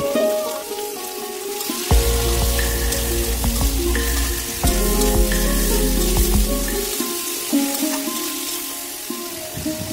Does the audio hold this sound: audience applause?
no